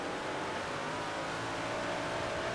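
Big block modified dirt race cars in World of Outlaws: Dirt Racing, with engines roaring in a steady, loud, continuous drone as the pack runs close together.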